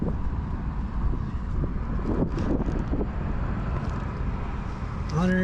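Steady wind roar buffets the microphone on a KTM 790/890 Adventure R motorcycle cruising at highway speed, loud and constant, with brief indistinct sounds near the end.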